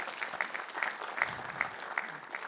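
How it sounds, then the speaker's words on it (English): A short burst of applause from a forum audience at Stanford's Industrialized Construction Forum, fairly close, with individual hand claps standing out in a quick irregular rhythm. "you can clap for that."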